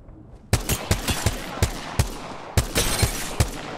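Rapid gunfire from the video game Apex Legends, a dry burst of shots followed by several separate sharp reports in an uneven rhythm, loud and close, with no talk over them.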